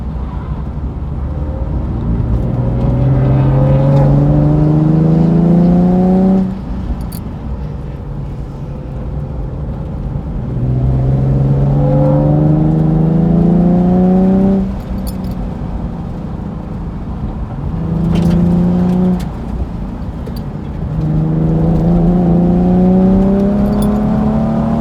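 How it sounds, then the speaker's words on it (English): Nissan VR30 twin-turbo car at a track day, pulling hard down a straight through repeated rising engine sweeps, each climb ending in a brief drop at the shift before climbing again, loud and close with no talking. "Definitely showcasing that VR30 twin turbo power right there on that straight."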